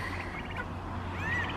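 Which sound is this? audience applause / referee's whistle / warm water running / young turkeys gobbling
young turkeys gobbling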